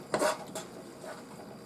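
A spoon scrapes and stirs chocolate fudge with powdered sugar in a pan on the stove, making a few close, brief rubbing scrapes and clinks followed by quieter stirring.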